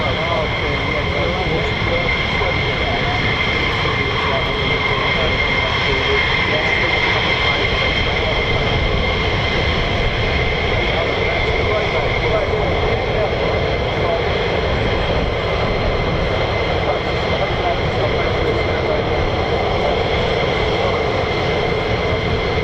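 F-15 fighter jets at RAF Lakenheath, home of the 48th Fighter Wing, producing a continuous, heavy engine roar that stays loud and steady throughout.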